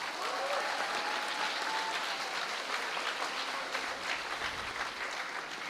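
A conference hall audience at a valedictory ceremony gives loud, continuous applause, a dense even roar of clapping that holds for the whole stretch.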